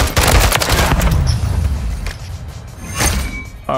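Automatic weapon fire in Call of Duty: Modern Warfare III, a loud burst of rapid shots at the start fading into rumbling echoes, followed by a couple of sharper isolated cracks near the end.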